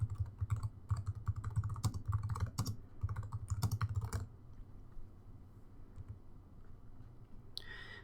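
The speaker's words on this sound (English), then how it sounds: "type in the content for your announcement in the content box" Rapid keystrokes on a computer keyboard, a dense run of clicks for about four seconds, then quiet room tone with one brief click near the end.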